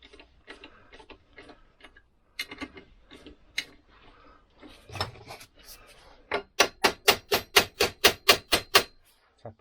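A part on a 1964 Lambretta Li125 scooter under restoration is tapped with a tool, starting with scattered light knocks and ending in a steady run of about a dozen sharp, evenly spaced metallic taps, loud and close.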